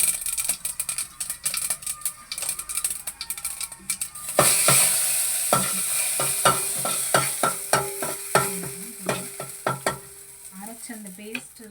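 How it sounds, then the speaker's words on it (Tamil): A spice paste for jeeragam milagu rasam is tipped into hot oil tempered with mustard seeds, starting with quiet scraping. A loud sizzle then bursts in, joined by repeated stirring clatters and ladle knocks. "அதை வந்து நம்ம இந்த கடுகுல தாளிச்சு கொட்டிட்டு"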